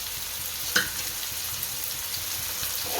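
Roasted peanuts stirred into frying Punjabi poha in a pan, a steady low sizzle with one sharp utensil clink near the start, then soft scraping, close and alone without talk.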